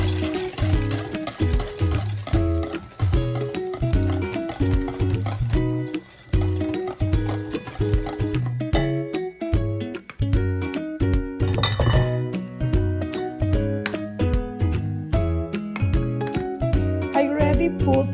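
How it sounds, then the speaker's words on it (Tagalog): Tupig batter of glutinous rice flour and salt mixed in a bowl, with repeated close clinks and stirring scrapes in a steady rhythm, set over continuous background music. "Mix well to incorporate all the mixtures."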